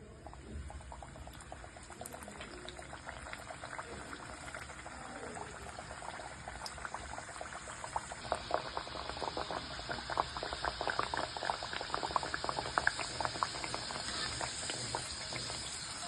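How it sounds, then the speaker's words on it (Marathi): Wheat-flour and jaggery puris fry in hot oil in a kadhai on a gas stove, giving a steady bubbling crackle that grows denser and louder about halfway through, with no talking. "तेल पण गरम झालेलं आहे तर आता आपण पुऱ्या सोडून घेऊया"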